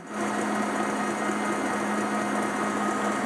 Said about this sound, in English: you can hear that the KitchenAid is kind of slowed down a little bit